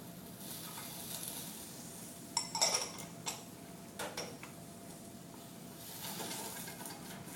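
Quiet, steady sizzle of food frying in a pan, with a few brief clatters and stirring noises partway through; no voices.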